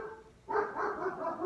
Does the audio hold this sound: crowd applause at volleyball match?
no